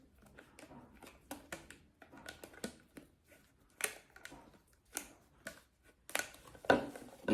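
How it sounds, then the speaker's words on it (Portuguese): Scissors snip through excess fabric around a sewn travel bag, a series of crisp, close cuts in an irregular rhythm with short quiet pauses between snips. "E vou cortar esse excesso aqui de tecido ao redor dele."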